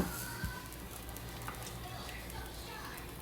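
Salted butter and spinach sizzling in a pan alongside garlic butter shrimp cooking, a steady low frying hiss with a faint stir or clink near the start, quiet and close throughout.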